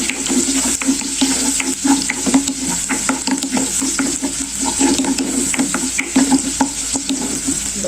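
Onion and bagoong shrimp paste sautéing in a pan, a steady close sizzle with frequent scraping stir strokes running throughout, no voices.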